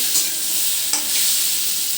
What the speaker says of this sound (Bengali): আমি লবণ ছাড়া আমটাকে ভেজে নিচ্ছি